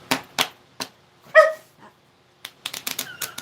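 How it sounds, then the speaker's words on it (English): A small female dog named Lola gives a string of short, light, high barks and yips with pauses between them, heard indoors at close range with no talk over them. "That's such a girly bark"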